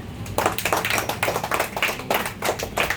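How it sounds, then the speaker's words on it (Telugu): Children applaud at a wedding anniversary celebration held at a child care home. A crowd claps rapidly and steadily for about three seconds, fairly close and loud, with no voices over it. "అందరు క్లాప్స్ కొట్టాను"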